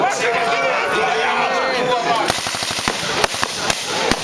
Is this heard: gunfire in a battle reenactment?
yes